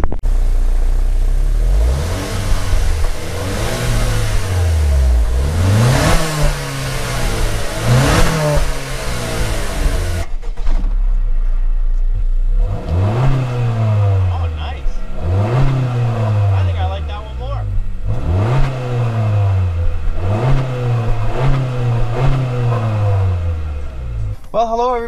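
Repeated engine revs from a Honda Civic 1.5T or an Acura RDX during a sound test, with rising and falling swells heard close up, several in a row, under loud voices talking and cheering.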